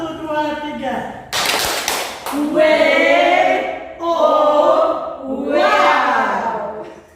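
A group of junior high school children claps together in a quick burst, then voices shout in unison, with a leader speaking between the cheers.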